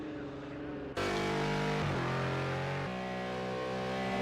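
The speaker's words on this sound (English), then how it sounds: "Roar of that McLaren." McLaren GT3 race car in Project Cars 2 at Bathurst Mount Panorama, its engine roaring loud and close after a sudden onset, holding a steady high-revving drone with a brief dip midway.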